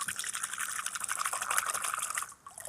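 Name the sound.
water being poured in for cooking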